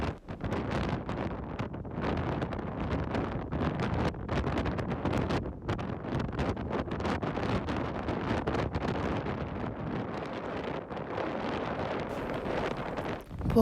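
A storm on the Norway coast with rough seas: strong wind buffets the microphone in a loud, continuous roar, and any wave sounds are buried under the gusts.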